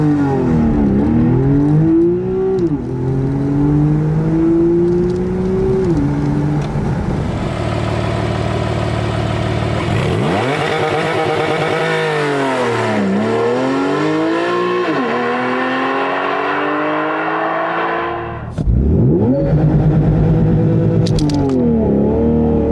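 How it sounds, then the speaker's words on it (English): A sports car, either a Mercedes SL or a Porsche 911 convertible, launches hard under launch control, its engine climbing loud and close through several rising gear sweeps with brief shift dips, then a pause and another surge near the end. "The sickest feature here, of course, is the launch control, and we are showing you that right now."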